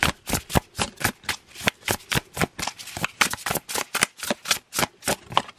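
A tarot deck is shuffled over and over, crisp rapid bursts of riffling in a steady rhythm, close up and with no talking.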